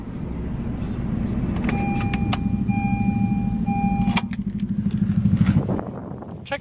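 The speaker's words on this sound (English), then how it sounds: "So we're going to shut her down." A 2011 Honda CR-Z Sport Hybrid runs with a steady close engine rumble and a pair of electronic chime tones, then the engine winds down and cuts off near the end, leaving near quiet.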